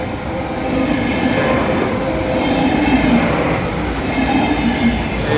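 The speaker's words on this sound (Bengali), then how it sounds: "না, আসতেছে ট্রেন।" A train passing close by in Portugal, a loud, steady rumble of wheels on rails with rattling carriages that swells slightly and holds for several seconds, with no talking over it.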